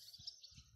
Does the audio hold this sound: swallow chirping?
yes